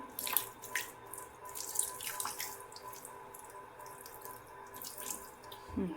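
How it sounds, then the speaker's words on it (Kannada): Water runs steadily from a tap into a cooking pan, with splashing and a few clinks and drips, fairly quiet and continuous throughout. "ಹಾಗೆ ಒಂದು ಸ್ವಲ್ಪ ನೀರು ಹಾಕ್ಕೊತಿದ್ದೆ"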